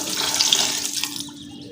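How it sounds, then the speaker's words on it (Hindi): A glass of water poured into minced beef for shami kabab, a steady close splashing pour that tapers off toward the end, with no talk. "अब मैं इसमें डाल दूँगी 1 गिलास पानी का।"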